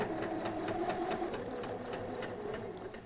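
A sewing machine runs steadily in a short burst of stitching, overlapping the start of a seam on a tote bag to lock the stitches, with a continuous whirring motor and a fast, even needle rhythm close by.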